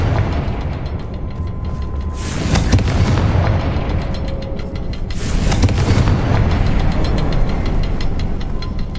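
In the Hogwarts Legacy video game, a Confringo spell sets off a fiery explosion. Heavy booming blasts rumble loud and continuous over nine seconds, with two sharper bursts rising partway through.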